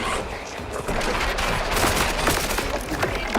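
Video game gunfire comes in rapid volleys of sharp cracks, loud and close, with a brief dip early before bursts resume and continue to the end.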